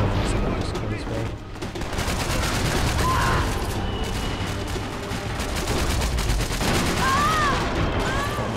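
Sustained M4 rifle fire in Max Payne 3 multiplayer, a dense, continuous rattle of rapid shots with faint whistling tones, loud throughout the whole stretch.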